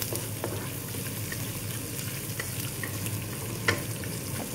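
Ginger sautéing in a pan for a Sri Lankan spicy chicken curry gives a steady, dense sizzle with occasional light scrapes and clinks from stirring, heard up close without talk.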